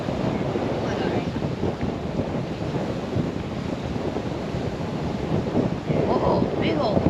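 Wind roars steadily across the microphone on a fishing boat on a windy day, a constant broadband buffeting with gusts that swell slightly near the end, with no other clear sounds on top.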